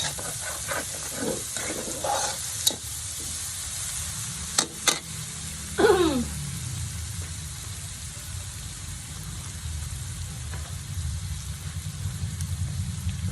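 Garlic and onion frying in a pan for pansit canton give a steady broadband sizzle throughout, broken by a few sharp clinks and scrapes of a utensil stirring against the pan near the start.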